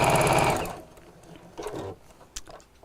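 A domestic sewing machine stitches a Christmas apron around a curve, its fast whirring needle loud and close for under a second before stopping, followed by quiet handling and a few faint short bursts.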